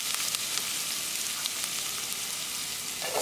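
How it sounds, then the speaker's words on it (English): Ginger, garlic and green chili frying in hot oil in a pan, giving a steady bright sizzle that holds evenly, close and moderately loud, with a faint stir near the end and no talking. "Ginger, garlic, green chili at the same time. And we cook for 10 seconds."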